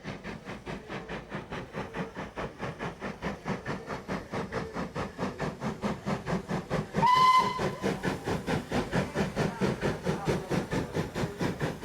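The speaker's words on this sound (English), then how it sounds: "this one is still bustling about on the Kent and East Sussex Railway." A USA class dock shunter steam locomotive on the Kent and East Sussex Railway chuffs steadily with a rapid, even exhaust beat, joined midway by a brief, sharp whistle blast over the hissing steam.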